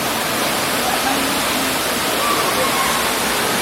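Krang Shuri waterfall in Meghalaya roars as a dense, continuous rush of falling water, loud and steady from start to end with no breaks.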